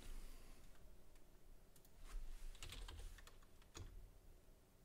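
Keys on a Commodore C64 computer keyboard are tapped in a short, quiet burst of scattered clicks, heard up close in an otherwise hushed room.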